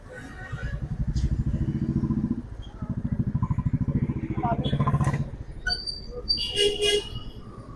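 A motorcycle engine idles and revs close by on a crowded street outside a Bangalore restaurant at night, its low rumble steady for several seconds before cutting, followed by a horn toot and clatter.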